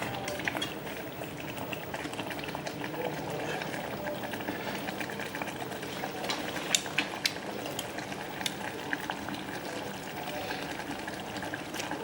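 A pot of food with okra simmering on a makeshift hotel-room stove in Thailand gives off a steady low bubbling and faint clicking, continuous and fairly quiet throughout with no talk.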